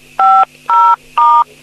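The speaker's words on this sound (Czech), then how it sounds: "stiskněte na klávesnici vašeho mobilu číslo 1" Three loud, evenly spaced DTMF keypad tones from a mobile phone, each a steady dual-pitch beep of about a quarter second, heard alone and close with short silences between them.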